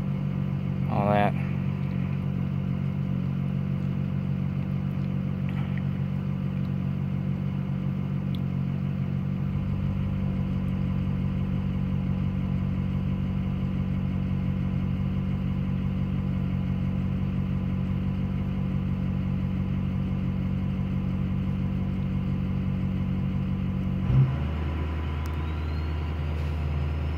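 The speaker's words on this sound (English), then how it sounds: "I'm gonna miss driving this truck with that turbo" A turbocharged Ford F250 truck on a road test, its engine droning steadily from inside the cab for the whole stretch, a low even rumble that shifts pitch near the end. Speech is faintly present.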